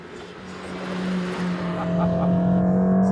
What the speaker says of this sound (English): driving the new AMG GT Black Series on a racetrack